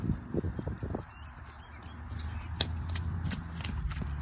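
Horses turned out onto grass for the first time at a stable walk and clop about, with soft irregular hoof thuds and rustling nearby, faint birdsong behind.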